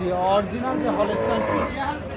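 A Holstein Friesian cross bull moos at a hot, busy cattle market, a long low bellowing call that is close and loud, with people talking in the background.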